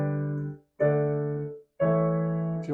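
Three piano chords played without the sustain pedal, each held briefly and then cut off into a short silent gap before the next, giving a choppy, disconnected sound in a quiet room.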